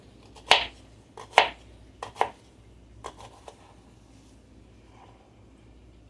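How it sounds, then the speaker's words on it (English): Kitchen knife slicing through an onion from root toward the cut end, a few crisp separate cuts spaced about a second apart, close and moderately loud. "I'm just going to slice towards the cut end from the root."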